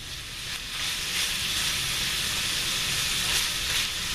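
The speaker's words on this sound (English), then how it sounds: "we're just browning the sausage in some olive oil" Sausage meat squeezed from its casings browns in olive oil in a skillet for an Italian shepherd's pie, a continuous bright hiss and sizzle that swells slightly after the first half second and holds steady, with no speech.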